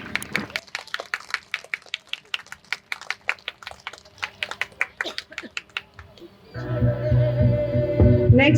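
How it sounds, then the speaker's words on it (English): Applause from the audience at a preschool sports day: steady, separate claps in a regular rhythm, fairly close, from a small group rather than a crowd, giving way to a louder burst of mixed noise and amplified sound toward the end. "Put your hands together, clap for them."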